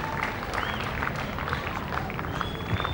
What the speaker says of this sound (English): because he's getting a round of applause